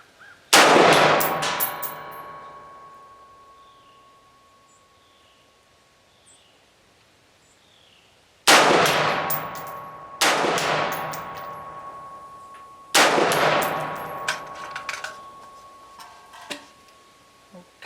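An Anderson AM-15 rifle firing 55 grain ammunition outdoors, four loud, sharp shots spaced by several seconds, each followed by a long fading echo and ring.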